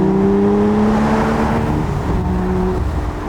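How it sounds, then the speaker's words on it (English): A powerful V12 car engine drones loudly and steadily, its pitch shifting slightly as it cruises on a road trip, heard from inside the vehicle. "Don't you love the sound of this beautiful V12?"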